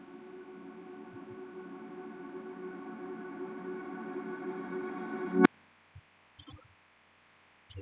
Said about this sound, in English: I get this ambient reverse sound.